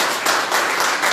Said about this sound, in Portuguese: Aplauda mais uma vez o nome do Senhor.